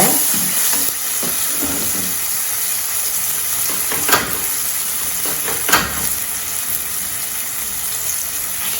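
Ground drumstick paste fries with spluttered mustard seeds in a pan, giving a steady hissing sizzle with occasional crisp spatula scrapes and clinks while stirring, close and without talk.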